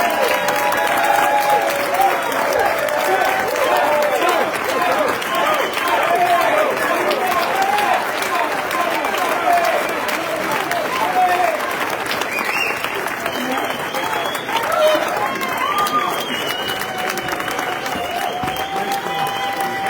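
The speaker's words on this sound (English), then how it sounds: "Please give our candidates a round of applause." Audience at a September 2022 Washington district 3 congressional candidate debate applauds the candidates, a dense, steady wash of clapping that holds loud for the full twenty seconds with scattered crowd noise mixed in.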